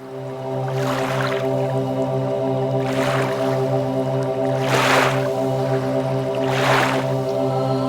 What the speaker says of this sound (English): With each gentle but steady stroke of oar by this boat boy, we float across the surface of the lake.